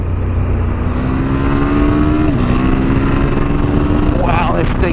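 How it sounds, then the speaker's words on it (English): A 2017 KTM 1290 Super Duke R motorcycle engine roars loudly as the bike accelerates, pitch climbing through a gear change and rising again amid heavy wind rush, with a rider's voice over it. "the KTM 1290 Super Duke R, its engine, the way it has the power it has, the way it delivers it, its acceleration"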